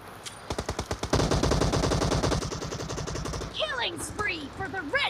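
Rapid automatic gunfire in the PUBG battle royale game, a burst of evenly spaced sharp shots growing into dense continuous fire, followed by whistling, warbling tones near the end.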